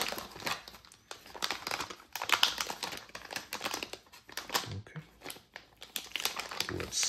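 The packaging of an Asrock Challenger ITX Intel Arc A380 graphics card being opened: close crinkling, rustling and tearing of box material in irregular bursts, with someone talking between the noises.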